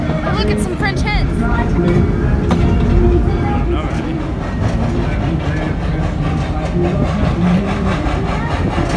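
Amusement park train ride at Kings Island during Winterfest, a steady rolling rumble with clacking wheels close by while people talk over it throughout.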